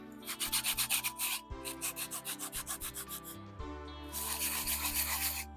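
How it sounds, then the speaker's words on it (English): Hand sanding smooths bumps on a handmade statue, a steady rhythmic rasp of repeated back-and-forth strokes, close and fairly loud, pausing briefly twice before resuming at a quicker pace; no voices. "Sand down some of these bumps."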